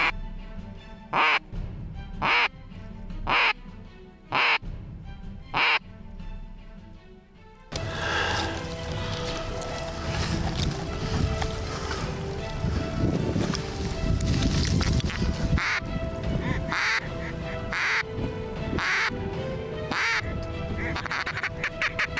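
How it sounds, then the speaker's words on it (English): Ducks at Devils Lake, North Dakota, give a series of loud, close quacks in quick bursts, followed by a busier stretch of repeated quacking over wind noise. "There's some ducks."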